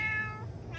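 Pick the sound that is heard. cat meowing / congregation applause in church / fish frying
cat meowing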